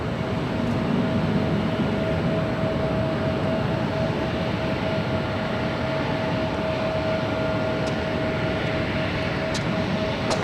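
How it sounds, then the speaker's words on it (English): A Delta Connection Embraer E175LR airliner at LAX, a continuous even jet engine rumble with a faint steady whine on top, heard at a distance outdoors without any talking. "That is Delta Connection Flight 4081 heading to Oakland, California. It's an Embraer E175LR."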